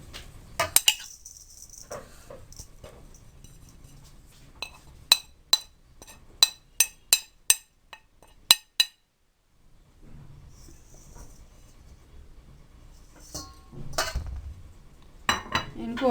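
Dry ingredients for a crispy fish fry, cornstarch, flour and dry spices, being mixed in a bowl, giving a run of sharp, evenly spaced utensil clinks against the bowl with quieter scraping and rustling before and after.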